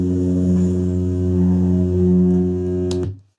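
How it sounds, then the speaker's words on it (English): A steady, loud film projector motor hum with strong low harmonic tones, holding constant for about three seconds before cutting off abruptly. "This is the projector motor hum."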